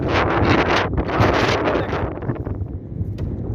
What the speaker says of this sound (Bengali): দেখেন কি বাতাস, দেখেন কি বাতাস